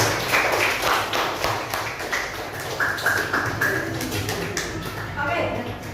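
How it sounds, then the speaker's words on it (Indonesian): A classroom group applauds after group 3 wins. The clapping is irregular and mid-distance and carries on for several seconds, mixed with chatter and voices. "Beri aplaus untuk kelompok 3"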